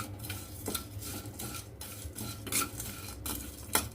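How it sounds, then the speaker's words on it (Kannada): Mustard seeds sputter and pop in hot oil alongside broken cinnamon pieces being roasted, with scattered crackles and faint clinks of a utensil stirring the pan, all quiet and without any talking. "ನೋಡ್ರಿ, ಸಾಸಿವೆ ಎಲ್ಲ ಸಿಡಿಲಿಕತ್ತಾವ, ಹುರಿಲಿಕತ್ತಾವ ಕೆಂಪಗೆ."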